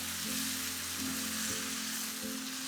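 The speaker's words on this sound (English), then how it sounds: "Let that simmer away and just reduce a bit" Worcestershire and beer sauce simmering and reducing in a pan over turned-down heat, a steady close sizzle and bubbling hiss running throughout with faint low hum beneath.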